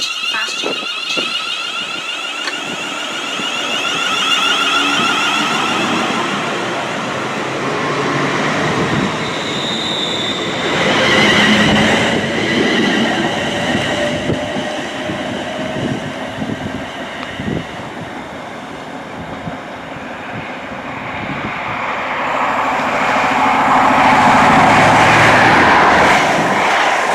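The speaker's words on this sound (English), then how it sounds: "Fast train approaching." A fast train passes through a station platform on the North Berwick Line, a loud, long rumble and roar of wheels with squealing and rattling that swells and fades over nearly half a minute.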